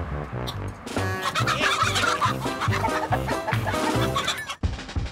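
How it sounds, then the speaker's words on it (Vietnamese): Chickens clucking and gobbling, a continuous run of rhythmic fowl calls under what sounds like lively background music, loud and close throughout with a brief dip near the end. "Gà."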